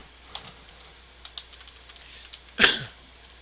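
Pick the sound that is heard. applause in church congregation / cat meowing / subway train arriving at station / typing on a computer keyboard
typing on a computer keyboard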